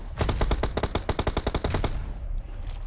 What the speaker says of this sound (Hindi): तो यहाँ पर आगे की तरफ से फायरिंग आ रहा था